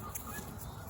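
Birds kept in a small coop make a dense, continuous honking and clucking din that fills the whole moment without pause.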